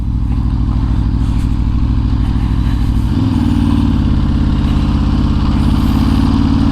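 A sport motorcycle rolls through stop-and-go traffic, its engine loud and close with a steady low drone that rises as the rider pulls away, surrounded by a busy traffic rumble.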